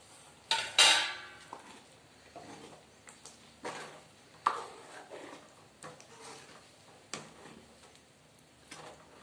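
Cut paneer being added to a pan while cooking, a few sharp clinks and knocks of cubes and utensil against the metal pan, the loudest near the start, then softer scattered taps in a quiet kitchen.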